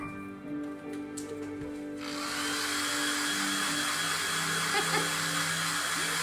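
Hair dryer blowing on a freshly made snow globe craft, switching on after a moment of faint ambient hum and then running as a loud, steady, airy whoosh close by.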